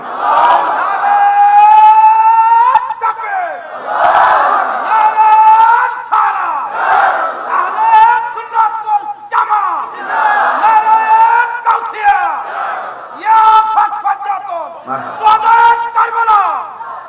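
A large crowd at an Islamic waz sermon gathering shouts back in unison to the takbir call, several loud, drawn-out chanted phrases repeating one after another across the whole stretch.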